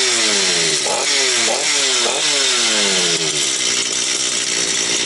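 A Stihl 250 petrol chainsaw idles and gets blipped up several times in quick succession, engine pitch sweeping up and falling back, then settling into a loud steady run close by.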